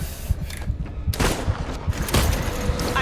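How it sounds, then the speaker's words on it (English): Rapid gunfire in a video game, a dense burst of shots and thumps that swells in two loud bursts, close and with no talk. "I'm just blind shooting now"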